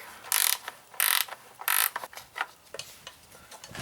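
A ratchet wrench with a 3/8 socket backing out engine bolts on a 17.5 hp Briggs & Stratton Intek engine, three loud bursts of rapid clicking followed by a few softer, slower clicks, close by.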